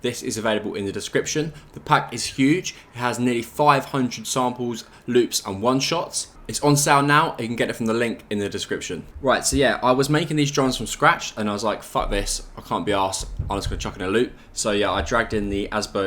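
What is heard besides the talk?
No everyday noises stand out.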